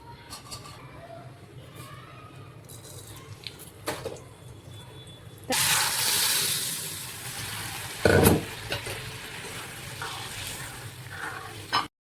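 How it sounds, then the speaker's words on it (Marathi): Hot oil and spices are poured in to temper dal. After a quiet kitchen background, a sudden loud sizzle bursts out midway and keeps going, with a sharp clatter shortly after. "आता वरणाला फोडणी देते"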